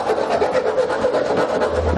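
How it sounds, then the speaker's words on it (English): Metal file rasping over the edges of a drilled hole in a truck bed frame to clear burrs, a steady close scraping with quick repeated strokes and no talk. "take a file and just kind of work the edges around the hole to clean up any burrs"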